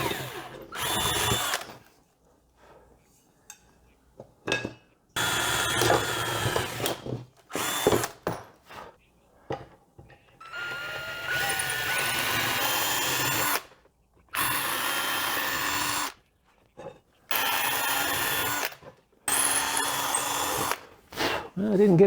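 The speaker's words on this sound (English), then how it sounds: "I'll pre-drill those 2 holes, and then we'll set it on here and drill into here." A power drill whirs in several short bursts while pre-drilling holes in wood, pausing between each, with someone talking in the gaps.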